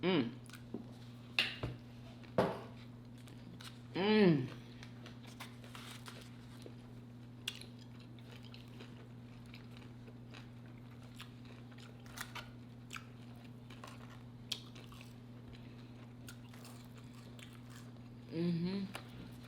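Popeyes flounder fish sandwich being chewed in a quiet room, with a few soft bites and squishy chewing sounds near the start and end, faint and sparse against a steady low hum.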